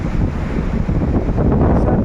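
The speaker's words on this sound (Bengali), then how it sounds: "পানি এসেছে এখন জোয়ার এসতেছে" Arabian Sea surf rolling in with the incoming tide on the coast of Oman, a steady loud wash of waves buffeted by strong wind against the microphone, with no talking.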